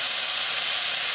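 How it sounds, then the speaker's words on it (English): Dry white wine poured into a hot pan to deglaze it while making pasta carbonara, giving a loud, bright hiss of steam and sizzle that stays steady for about a second. "Now we're gonna add some wine, dry white wine, any kind of wine you have. We're gonna deglaze the pan."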